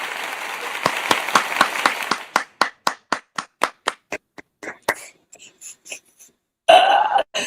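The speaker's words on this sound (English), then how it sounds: "We need to hear an applause." A small group claps together in a classroom-style setting, starting with dense overlapping claps that thin into slower, separate handclaps before fading; a brief voice is heard near the end.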